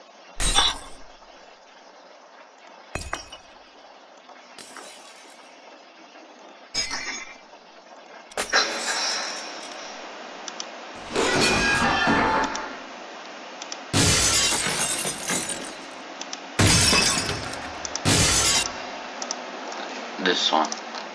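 Glass breaking sound effect tried out in Roblox Studio, repeated as a series of loud crashing shatters with tinkling shards, some bursts sped up and longer than others, separated by short quiet gaps.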